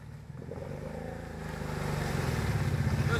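A Kawasaki Brute Force 750 ATV engine revs off-road, a close, rough, throbbing growl that climbs steadily in loudness and pitch over a few seconds.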